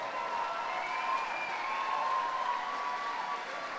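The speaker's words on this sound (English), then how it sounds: "a big round of applause for both of the fighters in this cage" Steady applause from a crowd for two fighters in a cage at an MMA event, continuous and dense throughout.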